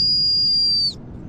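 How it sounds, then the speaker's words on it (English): A dinosaur call whistle blown outdoors at a hunting camp: one loud, sustained high-pitched tone lasting nearly a second, then cutting off abruptly to quiet background. "A dinosaur whistle, of course. Let's see if it works."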